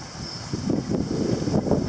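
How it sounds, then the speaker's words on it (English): A wind gust sweeps across the water of Marigot Bay, St Lucia, ahead of Hurricane Harvey, building from a soft hiss into a steady, rushing roar with no one speaking. "Look at it gusting across the water."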